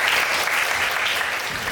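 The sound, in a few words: audience applause welcoming a lecturer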